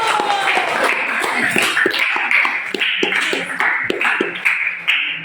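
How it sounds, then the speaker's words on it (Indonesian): Classroom audience applauding together, a dense spread of many hands clapping at once, close and fairly loud, holding steady for about five seconds without speech. "Oke, kita aplaus dulu"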